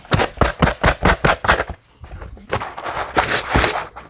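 Sanding block rubbed over brittle paper during hard cover notebook making, a series of rapid rasping back-and-forth strokes, close and loud, pausing briefly before resuming.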